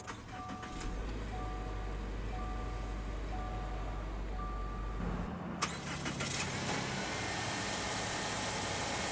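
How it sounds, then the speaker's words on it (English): A 2021 Subaru Ascent Premium mid-size crossover starting with its push-button ignition: a series of chimes over a low hum, then the engine catches with a quick crank and settles into a quiet, steady idle. "it also has push button ignition, so to start it, just make sure the key fob is somewhere in the vehicle so it can detect it"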